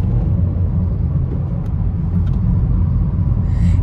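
A Chevrolet Onix Turbo pulls in second gear, its engine a steady, heavy low rumble that fills the cabin and holds at an even loudness, with no talking.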